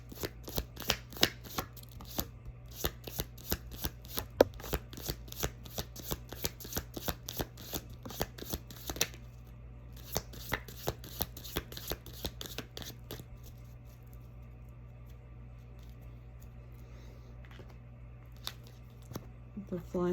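Tarot cards shuffled by hand during a winter solstice ritual reading, heard as rapid bursts of crisp riffling and slapping, close and fairly loud over a low steady hum, pausing briefly near the middle and thinning out toward the end.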